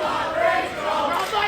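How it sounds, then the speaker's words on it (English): A wrestling crowd cheers and roars steadily at a match, a dense wash of voices that swells briefly, with no clear talk over it. "Listen to the crowd."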